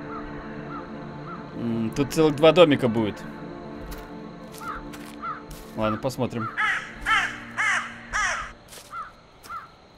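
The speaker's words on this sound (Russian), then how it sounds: "Ворона, не шуми так." Crows caw in the Cursed Forest video game, a burst of loud harsh calls early on, then a run of repeated caws near and clear, with someone talking between them.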